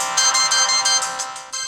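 A cell phone alarm rings in a loud, steady electronic pulse, repeating roughly every third of a second for the whole stretch, alone with no voices.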